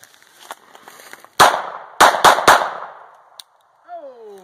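A Ruger P95 pistol fires full metal jacket rounds outdoors: a few faint pops lead into several loud, sharp reports in quick succession with echoing tails, then a voice speaks briefly at the end.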